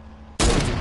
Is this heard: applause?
no